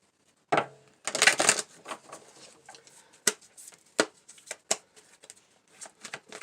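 Oracle cards being shuffled to draw a grace card: one long riffle of crisp papery flutters, then scattered soft slaps and taps as the cards are cut and handled, close and fairly quiet, with no talking.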